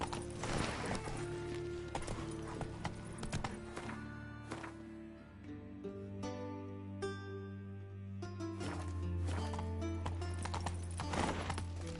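Geralt's horse Roach gallops in The Witcher 3, with steady rhythmic hoofbeats clip-clopping close by over game music and ambient sound.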